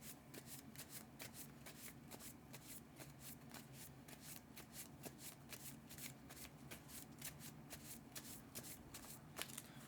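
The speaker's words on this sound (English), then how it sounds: "Right, discarding. We gotta shuffle." Cards are shuffled by hand for a solo game of the Legendary Marvel deckbuilding game, a quiet continuous riffling and rubbing with rapid soft flicks repeating evenly for ten seconds, no talking.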